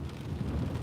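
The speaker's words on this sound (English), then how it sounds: "it's not a heavy rain, but it's not a light rain, but it has been a constant rain" Steady rain falls outdoors during flooding in Oklahoma, a dense, even hiss of moderate rainfall that holds constant without any voices.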